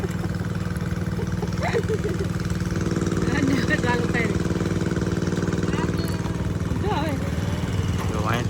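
A motorcycle engine runs steadily close by, a continuous low chugging hum throughout, with people talking over it.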